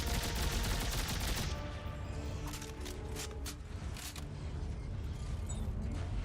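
Gunfire from Dead Space 3 on Impossible difficulty, with a dense run of sharp shots and rattling bursts over a constant backdrop of game noise and ambient rumble.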